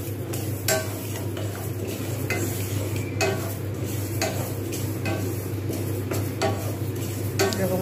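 Mung dal dry-roasting in a pan is stirred continuously, giving a soft rattling rustle over a low steady hum, punctuated by repeated scraping and tapping strokes of the spatula against the pan; no one speaks.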